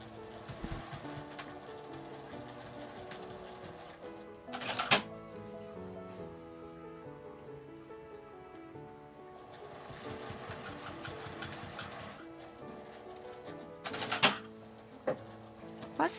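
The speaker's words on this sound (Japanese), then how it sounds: "印から内側に1センチ縫っておきます。" A sewing machine stitches fabric one centimetre inside a marked line, a continuous close mechanical whir with sharper clacks near the middle and the end, no voices.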